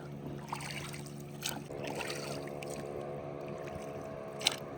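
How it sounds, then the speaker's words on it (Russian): A steady motorboat engine drone hums across the whole stretch on the Ukhta River with a low harmonic rumble, joined by faint splashes of water and a sharp click near the end. "а впереди у нас, наверное, моторная лодка"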